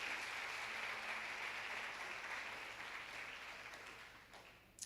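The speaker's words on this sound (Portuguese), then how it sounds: "Você pode aplaudir ao Senhor por isso?" A church congregation at a live celebration service applauds steadily, a dense wash of clapping that fades gradually toward the end.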